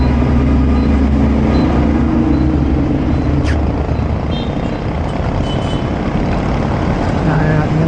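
A truck rolling along a service road toward Alabang, south of Metro Manila, on wet pavement after rain, picked up from a bicycle; steady low engine rumble close by, with a brief hiss partway through and a voice talking over it.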